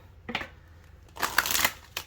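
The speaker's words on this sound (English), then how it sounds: "One more shuffle." Tarot cards shuffled by hand in two bursts, a short riffle then a longer flurry of papery slaps and flicks, close and fairly loud with no talking.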